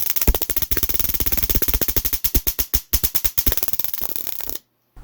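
A home-built Tesla coil's spark gap fires a rapid, crackling train of sharp snaps for several seconds, loud and close, then suddenly stops.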